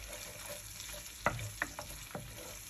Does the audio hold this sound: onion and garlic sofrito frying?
yes